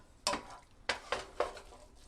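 Bolognese sauce being stirred in a pot: three distinct scraping, clattering strokes of a utensil against the pot, close and fairly quiet, with no talking.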